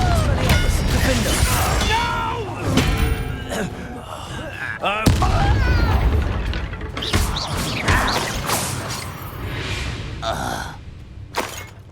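Spell combat in the video game Hogwarts Legacy, with Confringo and Incendio among the spells: a chaotic run of blasts, crashes and impacts, loud and near, with a voice speaking intermittently over the fight.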